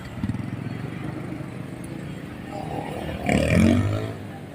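A motorcycle engine idles with a rough, pulsing putter, close by, then briefly revs louder before settling again.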